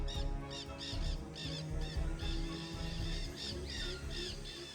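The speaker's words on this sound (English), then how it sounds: "Kia, the playful and intelligent parrot of the mountains." A kea parrot calls in the New Zealand mountains, giving a rapid series of harsh, squawking cries in quick succession over a steady low background rumble.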